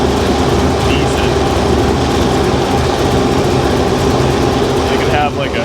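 A supercharged car engine idles in gear with a steady, loud, even drone that holds unchanged throughout, close by, with a brief dip near the end.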